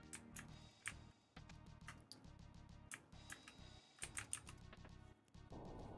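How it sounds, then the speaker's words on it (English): Loud computer keyboard typing, close up, in fast irregular bursts of sharp key clacks with short pauses, heard alone while playing Final Fantasy V. "Nope, it's just my keyboard."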